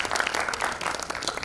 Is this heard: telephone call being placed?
no